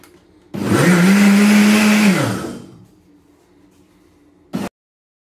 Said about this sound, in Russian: Дальше блендер все делает за нас.